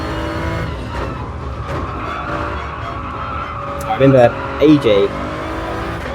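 A race car wrestled through Graham Hill Bend, its engine droning steadily with a brief squeal of tyres while someone talks over it.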